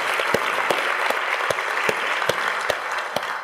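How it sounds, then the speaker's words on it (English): Audience at a school marketing conference giving a round of applause, steady crowd clapping throughout with a few louder nearby claps standing out at regular intervals. "if we can give them a round of applause for helping us fund"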